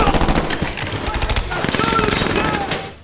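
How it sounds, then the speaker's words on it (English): Rapid bursts of gunfire, near and loud, overlapping shots in quick succession that trail off at the end, with shouting voices mixed in. "Gunfire erupts in the darkness."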